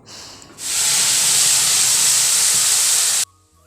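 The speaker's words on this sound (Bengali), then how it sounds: "আর এখন দেখো আমি সম্বার দিলাম হলো যে গোটা জিরে আর তেজপাতা।" Whole cumin seeds and bay leaves hit hot oil in a home kitchen, and a loud, steady sizzling hiss bursts out at once, holds for nearly three seconds, then cuts off abruptly.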